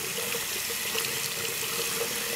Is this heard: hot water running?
yes